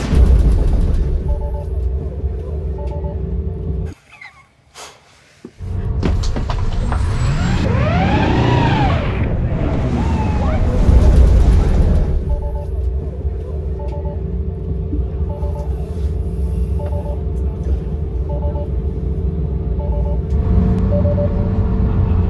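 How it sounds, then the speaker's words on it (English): A Tesla Plaid attempting a burnout, with a loud continuous rumble and a brief sharp dropout, then a rising and falling whine and a surge of roaring noise before a steady drone resumes. "This run I'm gonna try to do a burnout."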